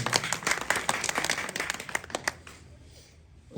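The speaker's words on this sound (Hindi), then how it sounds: "इनके लिए एक बार जोरदार तालियां होनी चाहिए।" A political rally crowd outdoors claps for the youth with brisk, uneven hand claps that build briefly then thin out into quiet, ending with a soft thump.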